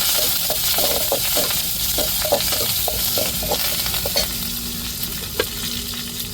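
Mustard seeds and curry leaves sizzle and crackle in hot oil in a home kitchen, a steady loud hiss dotted with sharp pops and stirring scrapes, with no voices.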